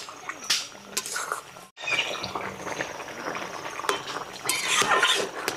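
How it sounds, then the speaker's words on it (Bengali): Small local crabs in curry are stirred in a pot just after the lid comes off, giving close wet liquid churning and scattered clinks of a spoon against metal, loud and uneven throughout. "এখন উঠায় নিয়ে আর একটু নাড়া দিয়ে নিই।"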